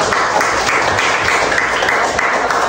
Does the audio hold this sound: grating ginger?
no